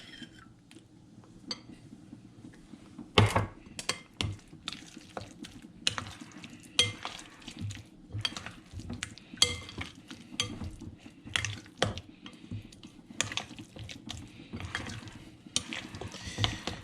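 A spoon stirs and scrapes through stuffed cabbage filling mixed with tomato sauce in a bowl, giving a string of quiet, irregular clicks and wet scrapes with no talking.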